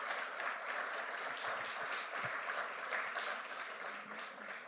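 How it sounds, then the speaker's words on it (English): Audience applause at an international technology and investment conference, continuous even clapping from a large crowd heard at a moderate distance, fairly quiet and fading slightly toward the end, with no talking. "I think this deserves a round of applause"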